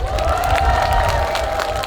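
Festival concert crowd at the Yeosu Yeongchwisan azalea festival, dense applause mixed with cheering in a continuous roar, loud and close.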